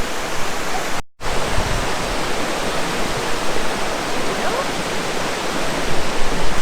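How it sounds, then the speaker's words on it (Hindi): Snowmelt waterfall in Fulufjället National Park, Sweden, a steady loud broadband roar of falling water close by, continuous with only a brief dropout. "ऊपर से पानी आ रहा है, बर्फ़ पिघल रही है और पानी जो सा नीचे गिर रहा है"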